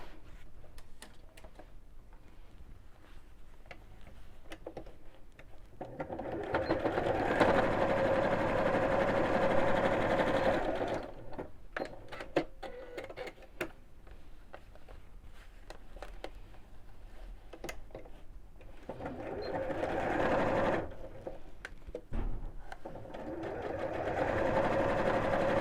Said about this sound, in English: then we'll sew those two lines